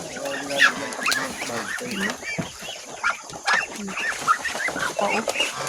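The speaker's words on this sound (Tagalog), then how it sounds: "Sagol din ang mga manok." Chickens clucking on a farm, several birds close by giving repeated short clucks and squawks over a quiet yard, with faint background voices.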